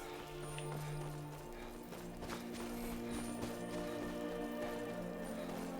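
Rhythmic clip-clop of horse hooves in Skyrim, a steady trotting patter over a mechanical game soundscape, with a low droning hum beneath and no talk.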